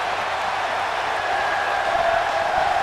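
Steady broadband roar of an arena crowd cheering in WWE 2K18 during a SmackDown Live match in Detroit, continuous and fairly loud with no distinct voices standing out.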